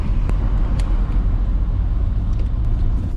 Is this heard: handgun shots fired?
no